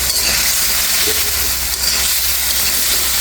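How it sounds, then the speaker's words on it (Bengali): Pieces of shol fish go into hot spiced oil, producing a loud, dense, continuous hiss of frying close by. "এখন এখানে মাছটা দিয়ে দিচ্ছি। মাছটা দিয়ে খুব সুন্দর করে কষিয়ে নেব।"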